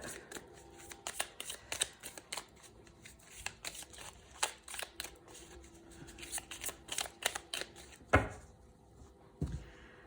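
A deck of tarot cards is shuffled and cut by hand at close range: a run of quick, crisp riffling snaps and slaps with irregular pauses, a couple of sharper thumps near the end, fairly quiet overall.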